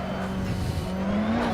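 A race car in a racing game roars under heavy throttle, its engine note rising and wavering with a hint of tire scrabble, loud and close.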